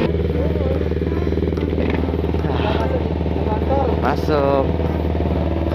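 A motorcycle engine idles steadily close by, a constant low chugging hum running the whole time, while a person talks over it.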